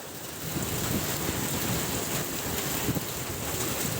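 Heavy rain pours in Meherpur, Bangladesh, a dense, steady roar of drops on surfaces with a low rumble beneath, even and continuous throughout, with no voices.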